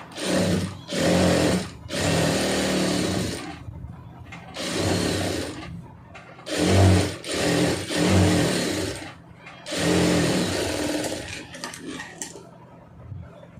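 An electric sewing machine stitches a blouse in several loud, steady runs of rapid mechanical whirring, each lasting one to two seconds and separated by short pauses.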